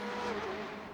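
Ferrari GTE race car engine in the iRacing game at Mid-Ohio Sportscar Course, a sustained engine drone with a pitch sweep as it runs, faint and alone.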